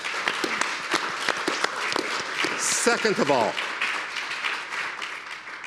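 Conference audience applause at a forum on Africa, a burst of scattered claps from a crowd heard under a voice, which speaks briefly partway through.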